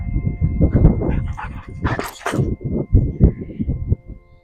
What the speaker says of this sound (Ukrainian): наша собака прийшла, кліщі мені принесла